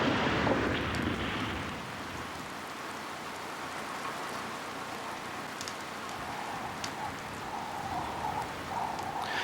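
Steady rain falls on a landscape blanketed in volcanic ash during the start of the rainy season, a continuous soft hiss of drops with no voices present.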